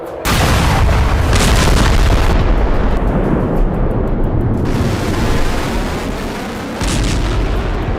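Bombing explosions in Gaza roar as loud, continuous rumbling blasts that swell and shift over several seconds, close and heavy, with no voices.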